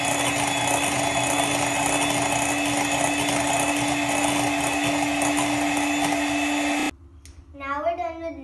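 An electric mixer whirs steadily and loudly as it blends a homemade Oreo ice cream base with vanilla essence, running for about seven seconds before cutting off abruptly, after which a voice speaks.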